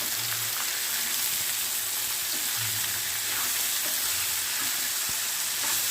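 Bitter gourd slices sizzling in oil with salt, a dense continuous close frying hiss broken by soft spatula stirs, no voices.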